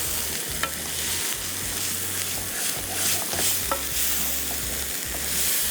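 Onions sautéing and being stirred in a pot or kadai for a Mughlai dish, a steady close sizzle with repeated scraping stirs throughout, no voices.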